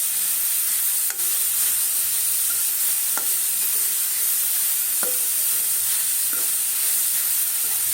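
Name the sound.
grated carrot frying in ghee for carrot halwa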